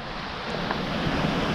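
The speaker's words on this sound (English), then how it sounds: "Easterly wind again, in your face, so it's a little bit chilly." Chilly easterly wind gusting along a Bristol Channel shoreline, a brief, fairly soft rush of broadband noise that builds slightly, with faint surf beneath.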